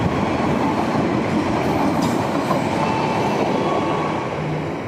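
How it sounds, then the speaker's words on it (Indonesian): An Argo Sindoro passenger train on the Gambir to Semarang Tawang run roars past loud and close, a dense continuous rumble with rattling wheels and faint squeal, no voices. "Kereta api Argo Sindoro Gambir"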